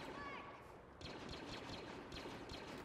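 Blaster fire in the video game Star Wars Battlefront, a quick stream of rapid shots crackling in clusters over a busy battle background, fairly faint overall.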